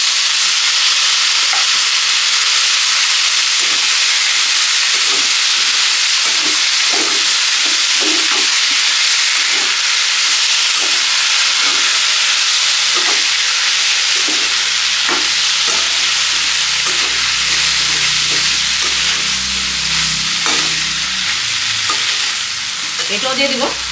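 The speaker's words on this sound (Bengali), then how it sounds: "এখন আমি ঘুগনিগুলো দিয়ে দেবো, মটরগুলো দিয়ে দেবো, আস্তে আস্তে দিব, আস্তে আস্তে কষাবো।" Boiled dried peas for ghugni sautéed in hot oil in a pan, a loud, continuous sizzle with repeated scraping and knocking of a spoon as the peas are stirred, and a low rumble joining partway through.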